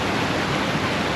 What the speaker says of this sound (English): Little waterfalls everywhere.